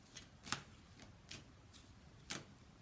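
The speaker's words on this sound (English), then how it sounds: "So can you give me one more card for all this?" Tarot cards shuffled and drawn during a reading, five quiet crisp flicks and slides spaced irregularly in an otherwise hushed room.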